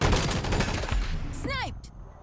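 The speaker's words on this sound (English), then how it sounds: "Sniped!" Rapid loud gunfire bursts from the video game Combat Champions, a dense burst of shots close up followed by a brief electronic game effect.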